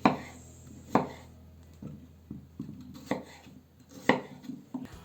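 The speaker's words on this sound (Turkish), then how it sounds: "patateslerimizi de ciğerlerimizin büyüklüğünde olacak şekilde küp küp doğrayalım" A knife chops potatoes into cubes on a cutting board in sharp, separate thuds, irregularly spaced, close and clear in a quiet room.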